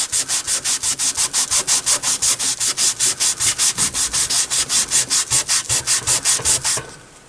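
Grime is scrubbed off an old Airline Montgomery Ward model 74BR-1812A radio with a standard cleaner, making a fast, steady run of about thirty even back-and-forth rubbing strokes, close and fairly loud, that stop abruptly at the end.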